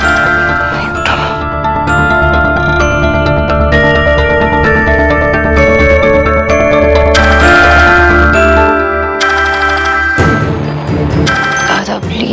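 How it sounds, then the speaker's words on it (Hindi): A phone rings late at night with a loud, melodic, repeating electronic ringtone that plays continuously over bright tinkling tones, pausing briefly near the end. "सोना इतनी रात को फोन क्यों कर रही है?"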